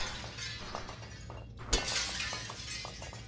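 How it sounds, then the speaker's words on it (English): Glass shattering in a video game: a single sudden crash bursts out midway over a steady hum and faint ticking, followed by a brief bright tinkling tail, with no speech. "Strong enough to punch glass."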